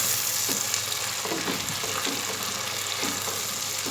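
Tomatoes fry with onion and spices in a pan, giving a continuous close sizzle with soft stirring scrapes every second or so.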